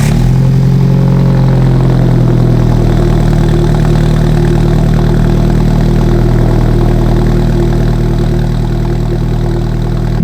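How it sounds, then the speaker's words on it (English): A car with a Capristo exhaust idles after a cold start, its steady, loud, deep engine drone running continuously without breaks. "Let's get a better look at the exhaust right now with the cold start."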